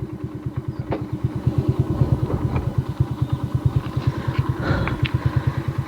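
A motorcycle engine idles steadily, its exhaust putting out a regular, rapid low thumping that stays even and fairly close throughout.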